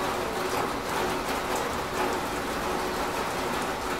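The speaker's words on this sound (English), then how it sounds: "And it had a tin roof. So when it rained, it was just insane sometimes." Rain drums on a tin roof in Costa Rica, a dense, loud and constant patter that stays even throughout with no other sounds.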